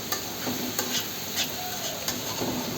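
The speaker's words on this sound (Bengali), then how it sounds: "তো ভালো মতো ভেজে সিদ্ধ করে নেওয়ার পরে এটাকে এমনভাবে ভাজতে হবে যাতে এটার একটা গোল্ডেন গোল্ডেন শেপ এসে পড়ে।" Crab fries with plenty of onion and chili in a pan, with a steady close sizzle and repeated stirring scrapes of a utensil against the pan.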